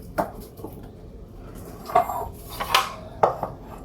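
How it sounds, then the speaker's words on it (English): Kitchen dishware handled while making cucumber salad, a few scattered clinks and knocks as a bowl is taken out and set down on a counter, close and fairly quiet, no talk. "Get a bowl or a dish like this."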